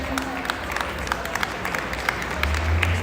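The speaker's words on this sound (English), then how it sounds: "A round of applause for sponsors, guys." Audience applause at a stage recognition for sponsors during a Desi Hungama 8th anniversary community event, steady dense clapping from a crowd throughout, with a low hum rising near the end.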